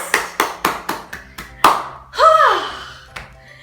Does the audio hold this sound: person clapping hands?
yes